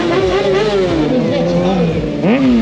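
Motorcycle engine during a stunt-riding demonstration at a track, loud and close, its pitch wavering up and down as the rider works the clutch and throttle, ending in a sharp rising rev, with a voice commentating over it.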